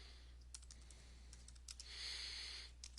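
Typing on a computer keyboard: scattered light key clicks and a short quicker run of keystrokes, faint and close in a quiet room.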